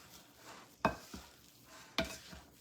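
Muffin batter with egg and orange juice being stirred in a bowl, with soft wet swishing and two sharp utensil knocks against the bowl.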